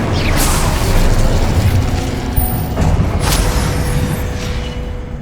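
A fire spell cast in the Hogwarts Legacy game: a loud, sustained roaring burst with crackling, mechanical clatter and booming layers throughout, followed by a sharp pop near the middle.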